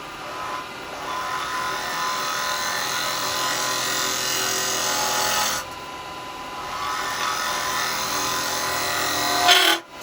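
Carbide tool cutting a live edge wood blank spinning on a lathe, a continuous close rasping, scraping hiss that breaks off briefly midway, then resumes and ends with a sharp catch.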